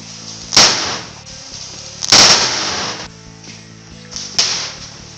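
Three sharp, loud explosive bangs from sodium metal reacting inside a watermelon, spaced a second or two apart, each with a brief crackling tail.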